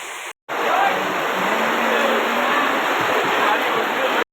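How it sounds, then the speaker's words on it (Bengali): Rain pours down outdoors where a bus is running, making a dense, steady rushing hiss that sounds like a close waterfall. The sound cuts out briefly near the start. "গাইস বৃষ্টি চলছে"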